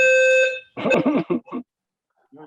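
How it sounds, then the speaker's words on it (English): A home fire alarm sounds a short, shrill electronic beep, then voices talk briefly over the quiet that follows. "My fire alarm is going off"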